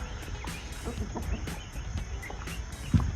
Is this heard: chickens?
yes